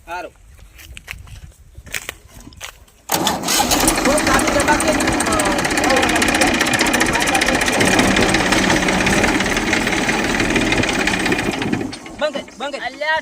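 A loud tractor engine chugs and rattles close by for most of the clip, with people talking before it starts and again after it cuts off.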